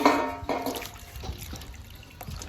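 Wild bitter bolete mushrooms being rinsed in water for an Isan bamboo-shoot curry: a brief splashy slosh at the start, then soft, steady trickling and dribbling close by, with no talking.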